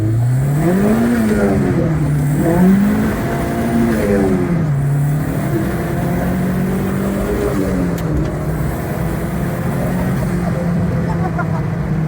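Nova car with a C20LET engine revving hard and accelerating through the gears, a loud, steady engine note that rises and falls, heard from inside the car.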